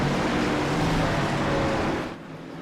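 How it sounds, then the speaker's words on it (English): Several 800-plus horsepower Gen 4 stock cars race around the oval at Richmond, a loud, dense engine roar that holds steady and then drops off sharply near the end. "listen to these 800 plus horsepower beasts go around Richmond"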